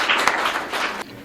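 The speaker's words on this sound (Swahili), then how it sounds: "Pigeni makofi." Audience applause at a government event marking a computer donation to a vocational training centre, a steady burst of clapping from a crowd that fades near the end.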